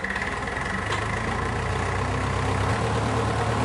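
A historical tractor engine in the video game Farming Simulator 2013 idles with a steady, low rumble and deep throbbing hum, close and unchanging, with no voices.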